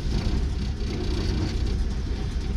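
A turbocharged LS engine runs after starting, a loud steady low rumble with slight fluctuations in tone, close and continuous with no talk.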